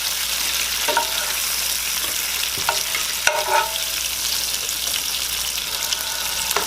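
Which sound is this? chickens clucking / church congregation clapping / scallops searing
scallops searing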